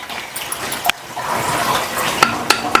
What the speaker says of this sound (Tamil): இதை இப்படி ஒரு கிளறி விட்டுட்டு